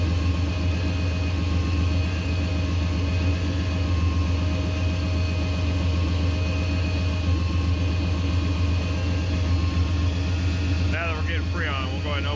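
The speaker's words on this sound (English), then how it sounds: "Now you can see our compressor's kicking in." A 1988 Chevy C1500 pickup idles steadily and close by with a low, even engine drone while its A/C compressor engages; a brief warbling change rises over the idle near the end.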